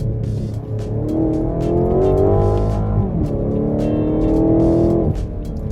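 A BMW Alpina XB7 SUV engine roars up close while cornering fast, rising and falling in pitch as it accelerates hard, with a quick eight-speed ZF gear shift midway and faint tire noise. No voices.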